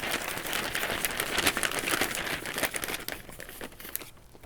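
Paper rolled and taped down while making a recycled instrument, a dense close crinkling and rustling that thins out toward the end, with no talk.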